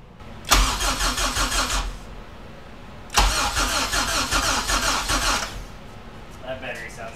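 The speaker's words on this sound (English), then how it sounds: "we're gonna crank it over a few times without coils on it" A K24Z engine swapped into a Honda EK hatchback cranks over with its coils removed, so it never fires: two long bursts of steady, rhythmic starter churning separated by a short pause, close and fairly loud.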